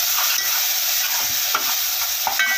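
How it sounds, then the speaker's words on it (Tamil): Steady sizzling of tomatoes with turmeric sautéing in hot oil, with soft scraping and stirring sounds scattered throughout; no talking. "மஞ்சத்தூள் சேர்த்துட்டு நல்லா வதக்கி விட்டுருங்க."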